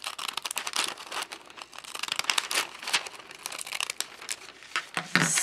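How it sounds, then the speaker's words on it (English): Glassine paper crinkles and rustles up close while a bag of it is cut, giving dense irregular crackles and crisp bursts without pause and no voices. "So probably at this point I would go ahead and do the cutting now"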